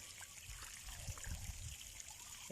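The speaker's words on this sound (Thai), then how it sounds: "นี่เป็นน้ำตกสวยเลย" Water trickles and splashes steadily into a shrimp pond from a small cascade, a continuous close burble with low gurgling, no voices.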